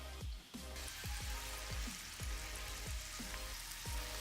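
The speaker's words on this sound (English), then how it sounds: "Now saute for 1 minute" Garlic and onion sauté in butter, a faint, steady crackling sizzle with soft rhythmic stirring taps about every half second, with no talk.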